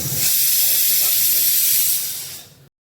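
A pressure cooker of potatoes boiling on a stove lets off a loud, steady steam whistle that holds for about two and a half seconds, then tapers and cuts off abruptly.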